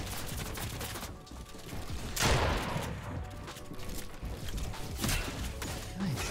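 Sniper fire and other gunshots in a video game, with a loud crack and burst of shooting amid scattered in-game gunfire and building noise, heard without talk.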